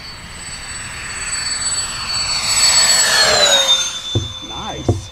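An FMS A10 Thunderbolt V2 RC jet with twin electric ducted fans on a 70C LiPo screams at full throttle, a loud whine that rises and sweeps past before fading, with voices briefly at the end.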